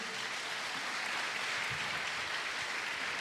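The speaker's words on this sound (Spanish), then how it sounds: "recibamos a los misioneros con un aplauso de bienvenida." A church congregation applauds to welcome missionaries at a special service: a steady, even wash of clapping from a large group, somewhat distant and uniform throughout the short stretch.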